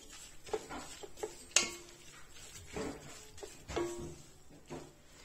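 A spoon stirs ginger, turmeric, paprika, pepper and a teaspoon of tomato paste in a pan, making faint scraping and occasional light clinks against the metal, quiet and close in a home kitchen.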